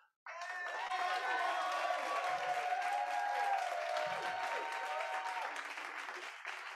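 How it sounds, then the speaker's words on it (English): Sudden burst of audience applause at an award ceremony, many hands clapping steadily and loudly for several seconds before tapering off. "big round of applause, please, for"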